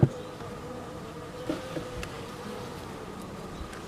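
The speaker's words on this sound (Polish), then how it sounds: "No tu niby we wszystkich uliczkach te pszczółki siedzą." Honeybees clustered inside a deep hive in late winter give off a faint, steady hum, with a few soft knocks and no voices.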